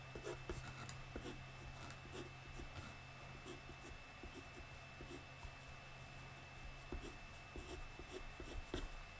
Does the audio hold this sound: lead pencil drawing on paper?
yes